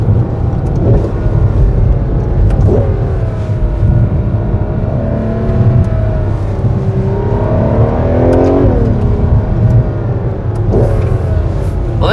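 A Ferrari 12Cilindri V12 accelerating hard along a narrow mountain road, loud close engine roar with rising and falling revs through gear changes, continuous and dominant with no talk.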